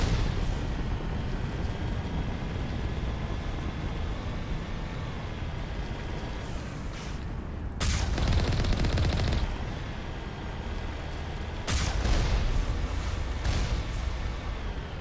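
Enemy gunfire in Mass Effect rattles in dense, loud bursts over a constant roar of combat noise, with two sharper volleys standing out partway through.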